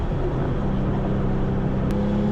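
Gunther Werks Porsche Turbo Mule, an air-cooled turbocharged car, producing a loud, steady engine drone heard from inside while driving, continuous without clear revving or pauses.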